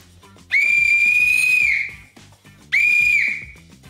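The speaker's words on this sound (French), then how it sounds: "Un sifflet" Two long, loud shrill whistle blasts close by indoors, the first about a second and a half, the second shorter after a brief pause.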